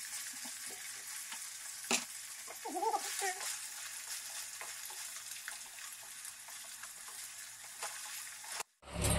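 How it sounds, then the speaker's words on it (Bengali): Remaining paneer cubes frying in a pan of oil for masala paneer, a continuous close sizzle with scattered pops and a few short stirring clatters, swelling loudly just before it ends. "এইভাবে আমি বাকি পনিরগুলো ভেজে নিচ্ছি।"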